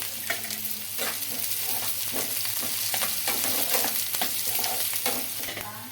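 Cumin, mustard seeds and curry leaves fry in hot oil with onions, a dense close crackle broken by frequent sharp pops and spatters, with stirring scrapes mixed in and no talking.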